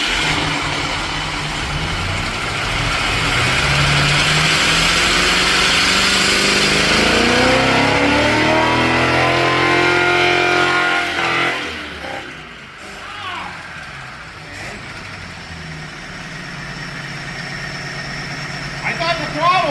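A junkyard Ford Thunderbird engine revs up hard after being choked, rising and falling in pitch before dropping back, with people talking nearby toward the end.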